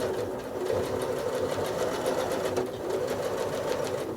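A sewing machine runs steadily and fast as it free-motion quilts wiggly lines, a continuous close mechanical whir with an even stitching rhythm and no voices.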